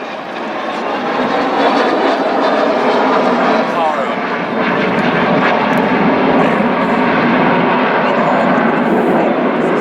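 A loud, continuous roar of the Avro Vulcan delta-wing jet XH558 passing overhead at an air show, steady and powerful throughout, with a faint murmur of voices beneath it.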